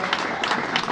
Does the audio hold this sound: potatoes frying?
no